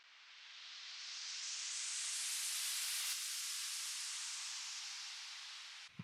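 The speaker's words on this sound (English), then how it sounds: "These are just noises, risers, sweeps, and they sound like this." A long white-noise riser and sweep effect for an electronic track swells steadily into a broad hiss, holds at full loudness, then slowly eases off before cutting out, with no other sounds alongside it.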